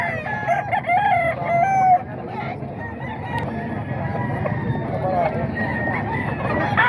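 Roosters for sale crowing, with several long strained crows near and farther off over a busy background of clucking fowl and someone talking.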